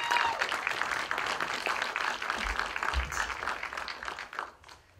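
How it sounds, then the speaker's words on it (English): Audience applause at a presentation on Lake Erie shipwrecks: a dense, even clatter of many hands clapping, fairly loud, then tapering off near the end. "round of applause for Michael, folks"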